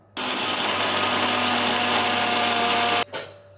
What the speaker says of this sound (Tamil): மிக்ஸி இப்போ ஆன் பண்ணணும்